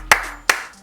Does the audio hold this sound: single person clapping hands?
yes